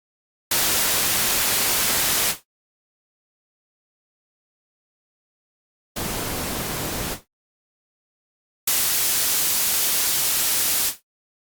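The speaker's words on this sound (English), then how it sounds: "When we are here in the center, we are on the white noise." A Yamaha Montage M synthesizer's noise generator puts out white noise in three separate bursts: a two-second hiss, a short one, then another of about two seconds, each stopping cleanly into silence.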